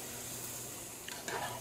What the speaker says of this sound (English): Let's saute our onions and shallots.